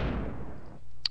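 A boss explodes in the video game Wild Arms with a single heavy blast that booms loudly and decays over most of a second into silence, followed by a short high chime.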